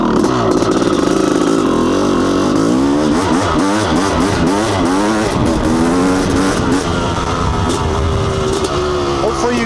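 Honda CR500 two-stroke dirt bike engine roaring close and loud on single track, repeatedly revving up and down in rapid pitch swings, with a rider's voice partly buried under the engine noise.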